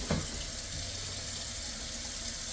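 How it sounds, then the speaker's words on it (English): Kitchen tap water pours steadily while a pepper is rinsed out to clear its seeds, a continuous close splashing hiss after a brief knock at the start. "I'm gonna wash out the inside of all the seeds."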